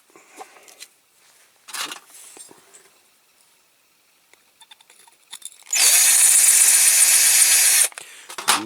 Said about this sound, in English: I need to drill that out.